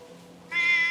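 Cat meowing once, a short loud tonal meow rising suddenly after a moment of quiet murmur.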